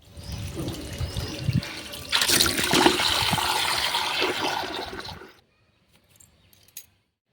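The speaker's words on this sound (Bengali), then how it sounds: "তো চলো কলের জলগুলো এক এক করে নিয়ে নিই" Tap water running and splashing into containers at a home kitchen tap, a steady broadband gush that grows louder partway through, then stops abruptly with a few faint clinks afterward.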